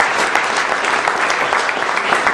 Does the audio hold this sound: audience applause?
yes